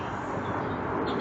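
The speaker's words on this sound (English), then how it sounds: "The plane." An airplane roars overhead near an airport, a loud steady broadband rumble that fills the clip.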